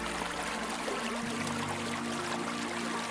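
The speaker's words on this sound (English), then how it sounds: "Just the hum of water beneath my window" A stream flows beneath a window in an Italian village, a steady broadband wash of running water heard close and unbroken, with a low tonal hum shifting in the background.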